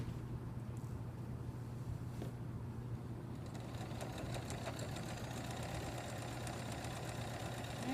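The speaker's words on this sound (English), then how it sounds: "I'm just working around and sewing the casing all the way until I come back to the X pin" A sewing machine stitches around a fabric casing on the free arm, a faint, steady mechanical whirr with a low hum, running continuously and quietly throughout.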